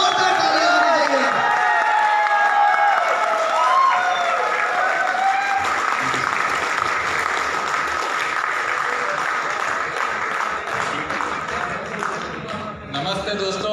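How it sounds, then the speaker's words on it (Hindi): Big crowd at a Kapila Health Care event breaking into loud, sustained applause with cheers and whoops mixed in, a dense roar of clapping that tapers slightly toward the end, with voices shouting over it. "एक बार जोरदार तालियां होनी चाहिए।"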